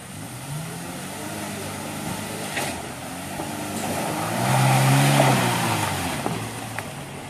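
A second car revving on a wet, muddy road near a palm oil mill in Gunung Meliau, West Kalimantan, its engine rising and swelling mid-clip under steady outdoor noise, with voices talking nearby.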